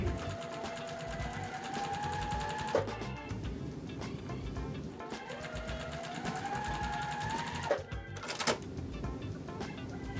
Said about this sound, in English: we're gonna put right sides together and sew these blocks all the way up